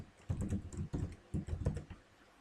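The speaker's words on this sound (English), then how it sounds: "here I can type page name" Keys clatter on a computer keyboard as a page name is typed, in quick bursts of close, crisp clicks separated by short pauses, with no voices.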